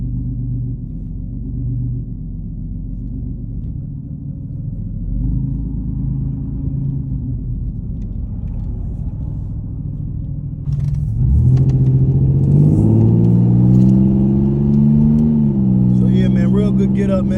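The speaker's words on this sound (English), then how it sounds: "I'm gonna go ahead and take this thing on the expressway." A 1989 Chevy Celebrity cruises on the expressway with a steady low engine rumble and road noise, then pulls harder and the engine note rises as someone talks over it.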